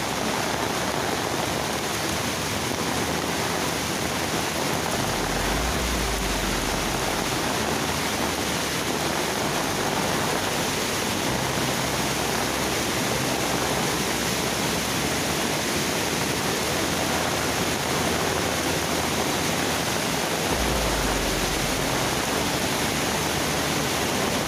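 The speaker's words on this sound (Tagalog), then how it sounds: "Lakas ng baha mga Pops, lakas ng tubig." Flooded river swollen by heavy rain from Typhoon Dante rushing loudly in a steady, roaring broadband wash that stays constant throughout, with no voices.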